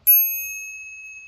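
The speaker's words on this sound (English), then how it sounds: "It's actually got a lovely bell. I'm going to do the bell now." A single bright strike of an ADO electric bike's bell rings out, its clear metallic tone sustaining and slowly fading over about a second, alone in silence.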